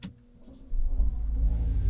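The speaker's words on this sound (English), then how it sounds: "It also has that electric start up and turn off sound." Mild-hybrid Mercedes CLA petrol starting up electrically: a soft electronic chime at the start, then a low, steady hum and rumble that swells in and holds close by, with no spoken voices.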